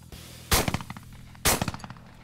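Two sharp gunshots at a steel plate rack target about 125 yards away, roughly a second apart, each loud report followed by a scatter of ringing metallic hits and echoes.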